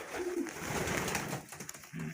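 A pigeon coos nearby in soft, low, rolling calls, repeated a couple of times with brief pauses between them.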